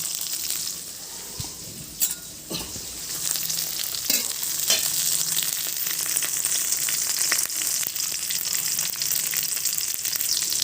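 Green chillies fry in hot oil in a pan, a dense steady sizzle with occasional stirring clinks, close and continuous with no talk.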